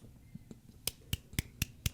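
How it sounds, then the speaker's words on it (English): Light, slow golf clap: five crisp, evenly spaced hand claps about a quarter second apart, close and fairly soft, with no talking. "golf clap"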